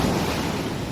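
Sea waves breaking at Gangavaram beach in Vizag, a loud, continuous rushing surf with some wind across the whole second.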